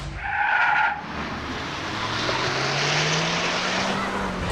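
A Hummer EV drag races a souped-up Audi S4. A brief loud tire screech opens, then a steadily rising motor whine runs over a broad road and wind roar, close by.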